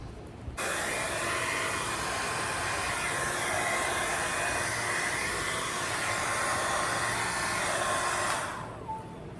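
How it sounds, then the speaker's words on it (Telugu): A Caresmith Bloom 2-in-1 hair dryer and volumizer brush drying hair, switching on to a steady loud whirring blow with a high whine, then cutting off near the end. "ఈ హెయిర్ డ్రైయర్ ఏంటి అని అంటే చాలా ఫాస్ట్గా హెయిర్ అనేది మంచిగా డ్రై అవుతుంది"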